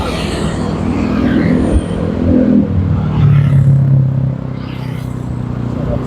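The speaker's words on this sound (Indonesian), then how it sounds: "kendaraan yang keluar kota maupun yang mengarah ke kota masih lumayan ramai" Road traffic on Jalan Sultan Alauddin in Makassar, heading out of town with busy vehicles in both directions. Engines and tyres give a continuous loud rumble and whir with swelling passes, and no talk is heard.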